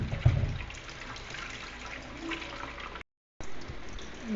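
Coconut milk pours and trickles through a sieve into a container, a steady close liquid splashing with a brief gap near the end.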